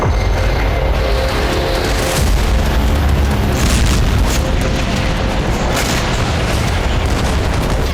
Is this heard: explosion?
yes